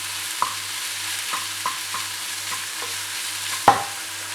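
Spiced tomato masala fries in a pan under a steady low sizzle while a utensil stirs it in regular scraping strokes, ending in one louder knock against the pan.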